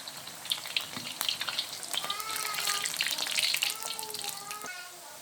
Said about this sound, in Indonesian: sekarang tinggal digoreng